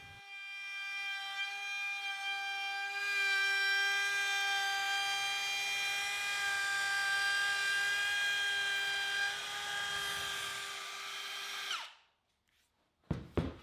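A wood router cuts a bead molding along clamped boards for a table apron, a loud steady high whine held for about nine seconds before winding down, followed by a few sharp knocks.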